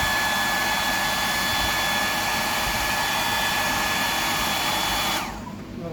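A hair dryer blasts air to dry paint on a fishing lure, a loud, steady whirring hiss held close for several seconds before it switches off and winds down.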